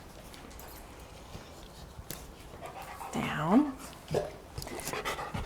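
A dog lying on its side during passive range of motion exercises pants in quick soft bursts and gives a short whine, close but quiet, under a person speaking calmly nearby.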